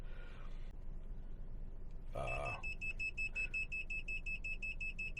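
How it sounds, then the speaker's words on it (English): An Autel MP808Z-TS diagnostic scan tool gives a rapid, steady series of high electronic beeps for several seconds after a brief muffled knock, fairly faint against a quiet hum, a reminder that its wireless VCI is connected. "This scan tool beeps so you don't forget your wireless VCI connected to your vehicle's diagnostic port."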